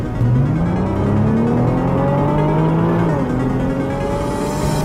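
Engine drone of a 2020 Nissan GT-R Nismo with an aftermarket tune, heard from inside the cabin while driving, a loud steady rising tone that dips briefly as it shifts and then climbs again.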